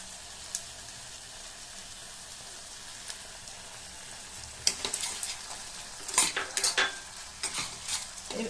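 Ground garlic-ginger paste frying with softened tomato in a pan for a soybean dish, a soft steady sizzle that turns into busy scraping stirs and clatter in the second half, close and alone.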